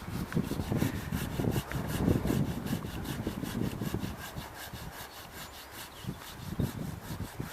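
A Silky hand saw cuts through a big apple tree branch during renewal pruning, with rapid rhythmic push-pull strokes rasping through wood, close and steady for several seconds.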